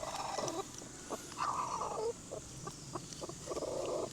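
Pet chickens kept in the Philippines cluck and chatter close by in repeated bursts, several birds calling in turns against a low background murmur.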